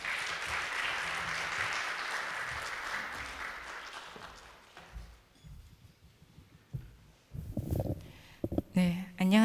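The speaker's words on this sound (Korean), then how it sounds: "나오실 때 큰 박수 부탁드리겠습니다." Audience applause fills the opening of a college project results-sharing event in a hall, a dense, sustained burst of clapping that fades out over several seconds before a voice on the microphone begins.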